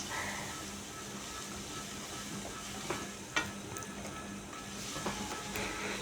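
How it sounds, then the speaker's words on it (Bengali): Ginger garlic paste frying in a pan while making prawn dopiaza, a steady soft sizzle running throughout with a few light scrapes of a spoon near the middle and end. "এখন আমি দিয়ে দিলাম আদা রসুনের পেস্ট"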